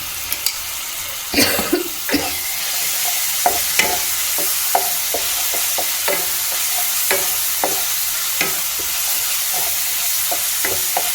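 Kofta sizzles steadily in a pan as ginger-garlic paste is stirred in, with a constant hiss of frying broken by a run of light scraping and clacking stirs.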